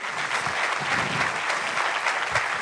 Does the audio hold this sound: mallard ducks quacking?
no